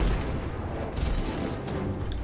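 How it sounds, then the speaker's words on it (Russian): Ship cannon fire from the naval video game King of Seas, a dense low booming rumble that fills the whole moment, loud and continuous, without speech over it. "Так, ну сейчас я его обстреляю."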